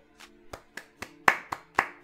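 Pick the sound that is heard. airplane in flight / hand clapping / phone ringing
hand clapping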